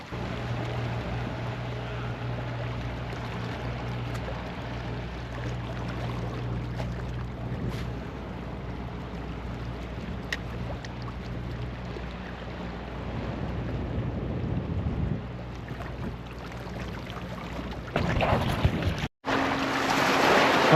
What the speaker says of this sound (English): As soon as that boat went past, bang, another hook up.